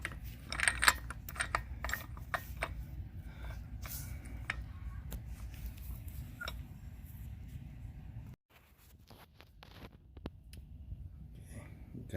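Ratcheting and turning an axle nut off the wheel hub of a 2000 Toyota Celica outdoors, rapid soft clicks and metallic rattles close by, then a pause and a few scattered clanks.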